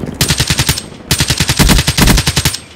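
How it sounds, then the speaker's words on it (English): Gunfire in an underwater shootout in the Black Ops 3 video game: two loud, close bursts of rapid automatic fire, each with evenly spaced shots, separated by a brief gap. "Underwater gameplay, boy! Oh, underwater shootout."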